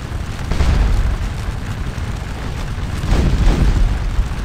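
Cannon fire rumbles through a Napoleonic battle at Waterloo in a strategy game, heavy low booms rolling continuously with two louder surges, no voices present.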